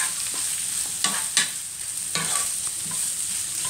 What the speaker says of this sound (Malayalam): വഴറ്റിയെടുക്കണം. ഈ സവോള പെട്ടെന്ന് വഴണ്ടി കിട്ടാനായിട്ട് നമുക്ക് കുറച്ച് ഉപ്പിട്ട് കൊടുക്കാം.